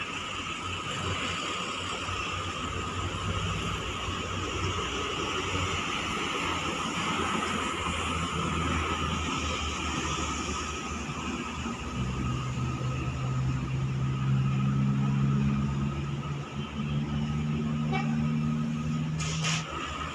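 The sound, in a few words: Halmera bus passing and honking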